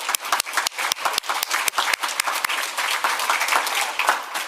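Graduating physical therapy students at a university ceremony applaud themselves, with dense clapping and sharp individual claps up close, loud and sustained throughout.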